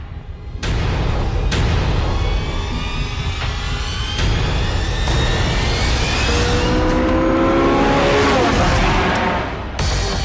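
A car with a petrol engine and stored hybrid energy runs at full power on a race track in Hot Lap mode. The engine revs hard and climbs through rising gear pulls, with sharp shifts and a brief tire squeal, loud and close.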